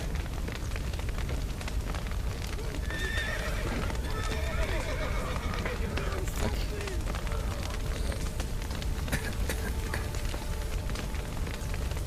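In The Witcher 3: Wild Hunt, horses whinny in high, wavering calls while hooves clatter, over a busy wash of game noise and occasional voices.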